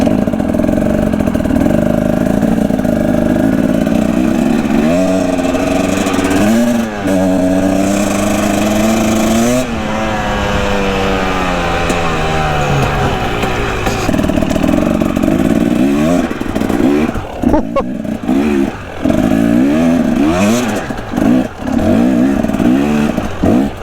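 Supermoto motorcycle with a non-four-stroke engine, loud and close, revving repeatedly with rising and falling pitch sweeps over a steady idle, then a burst of quick throttle blips near the end.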